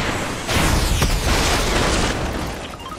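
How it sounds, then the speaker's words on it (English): A loud, sustained explosion tearing apart a building in a video game, a broad roaring blast that swells in and rumbles on for a couple of seconds before easing off. "I'm gonna destroy the building."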